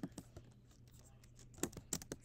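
Quick bursts of typing on a Mac computer keyboard, a handful of close, crisp key clicks in an uneven rhythm as a worksheet name is entered, with faint background hum.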